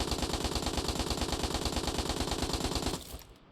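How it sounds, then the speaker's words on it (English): An auto rifle in the game Destiny Rising emptying a full magazine in one loud, steady stream of rapid shots that stops abruptly, leaving a short fading tail. "I'm gonna empty a clip with this auto rifle without anything on,"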